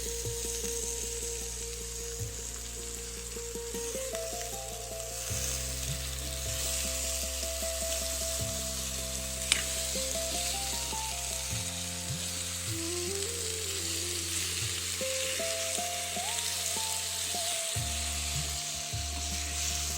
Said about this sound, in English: We need to add chopped red tomatoes to the kadhi and keep stirring the ingredients